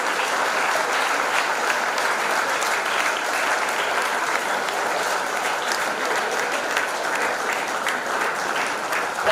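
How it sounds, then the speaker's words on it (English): Students at an engineering college graduation day give their parents a big standing ovation, with steady, dense applause from a large crowd filling the hall throughout, without a break. "all the students stand and give a big country clap and ovation to our parents"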